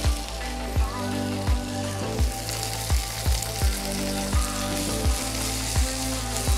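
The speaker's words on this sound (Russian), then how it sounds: "не дождаясь полной обжарки куриного филе, добавим шампиньоны и кабачки." Chicken fillet sizzling in a pan with button mushrooms and zucchini, a steady close frying crackle with regular low knocks about every three-quarters of a second, like a utensil tapping the pan.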